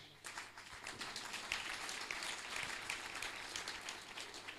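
Audience applause at a cultural music evening in Mbarara, with steady, dense clapping from a crowd lasting throughout, loud and continuous with no talk over it.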